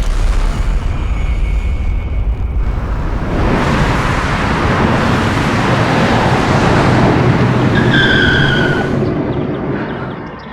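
A car engine roars loudly and continuously at close range for about ten seconds, with heavy low rumble and broadband road and wind noise. It fades slightly near the end, and no one speaks over it.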